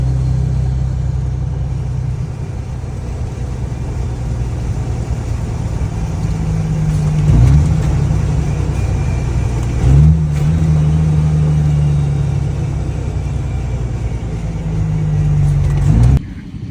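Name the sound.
Kenworth W900B truck with CAT C13 engine running, possible clutch or flywheel noise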